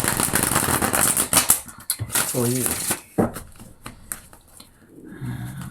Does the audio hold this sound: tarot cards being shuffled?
yes